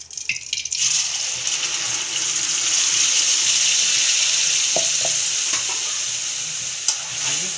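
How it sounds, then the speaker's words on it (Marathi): Tempering spices hit hot oil for a Khandeshi-style cowpea curry, bursting into a loud continuous sizzle after a brief quiet start, with occasional stirring clinks and scrapes close by. "मी फोडणी देते आहे."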